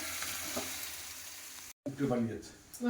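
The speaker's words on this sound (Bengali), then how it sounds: "এখানে আলুর তরকারিটা গরম হচ্ছে" Potato curry heats in a pan on a home stove, giving a steady close sizzle and frying hiss that runs through the clip, with a brief dropout and some faint voices in the background.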